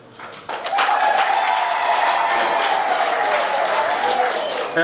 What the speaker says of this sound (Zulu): ngizocela ziphakame siziphe ihlombe